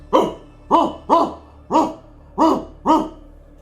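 A dog gives six short, evenly spaced barks over about three seconds. Each bark is distinct and fairly close, and there is nothing else in the background.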